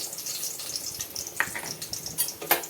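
Mustard seeds go into hot oil after frying garlic, a soft steady sizzle with scattered pops and crackles close by.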